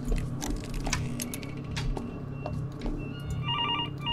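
A telephone rings in the horror video game Infliction, its electronic trilling bell repeating over a busy background of clicks and rattles, rather faint and mixed into game noise.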